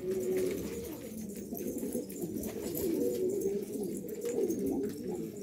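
A red silvertail pigeon coos steadily and loudly up close, its low rolling calls repeating without pause across the whole stretch.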